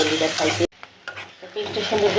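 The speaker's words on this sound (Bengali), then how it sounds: "সুন্দর করে ভাজা ভাজা করতেছি তেল দিয়ে দেবো" Loud hissing sizzle of fish frying in hot oil, briefly cut off, then resuming with steady crackle.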